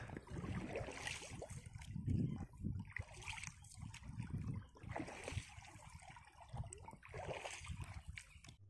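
Kayak paddles dip and splash on the Volga river in a steady, repeating rhythm of close watery strokes with trickling drips between them. No one speaks.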